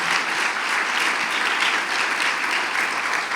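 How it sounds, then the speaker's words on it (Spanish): Loud, sustained applause from a church congregation clapping for the Lord during a service, a thick continuous wash of many hands at constant strength. "Dale un fuerte, fuerte aplauso al Señor."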